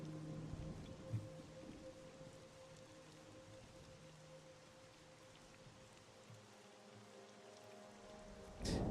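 Steady soft rain falls in the Monsters & Memories game world, a faint continuous patter with a low hum beneath and a brief louder burst at the very end.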